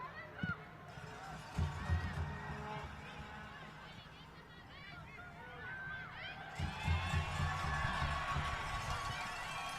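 Spectators at the U SPORTS women's soccer championship between the Montréal Carabins and McMaster Marauders make a steady crowd babble with swells of cheering near the start and again later, with commentary running over it.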